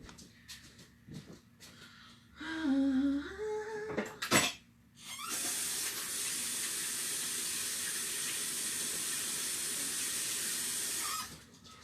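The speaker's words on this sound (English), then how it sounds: "I'm going to go wash my hands" Hands being washed under a running kitchen tap while making meatballs: after a few brief bumps, clatter and a short tonal squeak, water pours steadily with a bright, hissing splash for about six seconds, then stops.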